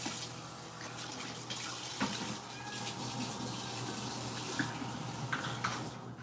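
Tap water runs steadily into a sink as a Keurig coffee cup is rinsed and washed, a continuous close splashing flow with small clinks, no talking.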